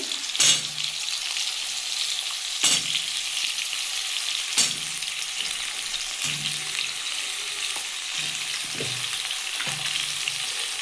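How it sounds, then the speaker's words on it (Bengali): Potato and tomato pieces fry in a hot pan, giving a steady, close sizzle with a few sharper clatters of a spatula spaced every couple of seconds. "এর মধ্যে আমি আলু আর টমেটো ওগুলো দিয়ে দেবো ভাজার জন্য"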